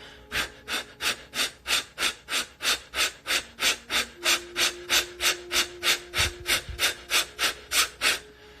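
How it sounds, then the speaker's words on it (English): Forceful breath-of-fire exhales from a breathing exercise, about twenty-five sharp, close puffs in a steady, rapid rhythm, with no talking. "So with the breath of fire, you're not concerned with inhaling whatsoever."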